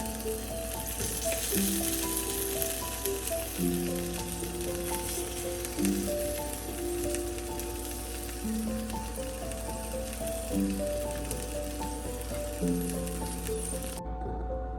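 Stuffed okra (bharwa bhindi) frying in hot oil gives a steady, close sizzling hiss that runs throughout beneath melodic background music.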